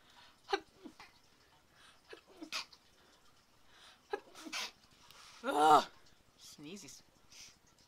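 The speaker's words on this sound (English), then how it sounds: "Sneezes." A person sneezes once, loud and close, in the middle of a quiet stretch of scattered short breaths and small vocal noises, with no speech.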